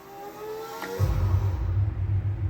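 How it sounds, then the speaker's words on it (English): Race car sound effect from an LG CK99 speaker in party mode 2, a loud revving engine roar with a whooshing swell that kicks in after a brief whir and holds steady to the end. "It sounds like a race car"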